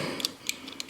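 A ratcheting clamp-on tool loosens the oil drain screw on a Harley motorcycle, giving a few quick, close metallic clicks at irregular intervals within less than a second.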